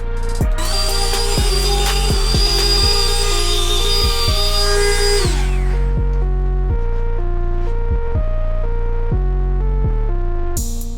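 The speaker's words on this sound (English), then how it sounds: "Now I'm going to use this little sanding mop, I guess that is, just to clean it up." A power drill fitted with a sanding mop whirs steadily up close, with a high-pitched whine over a low throbbing hum that shifts in pitch as it cleans up a lid.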